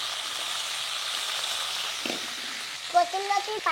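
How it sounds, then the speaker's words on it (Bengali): Fish sizzles in a pan after being turned over, a steady close frying hiss with a few clinks, and a voice briefly starts speaking toward the end. "আর এক পিঠ পাল্টি করে দিছি।"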